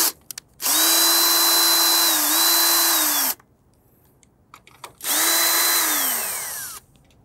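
Power tool spinning off rusty nuts from a trailer jack in two loud, close bursts, each a steady high whine that dips in pitch as the drill loads, with a short quiet pause and faint clicks between.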